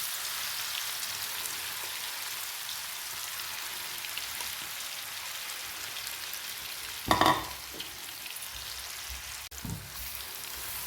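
Spicy hotel-style fish piddupu fries in hot oil, giving a steady, even crackling sizzle throughout, broken by a brief loud clatter partway through and a softer knock near the end.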